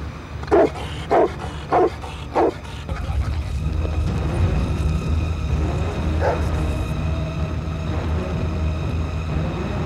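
A dog barks four times in quick succession during a training exercise, fairly close and loud, then a steady outdoor rumble follows with one faint later yelp.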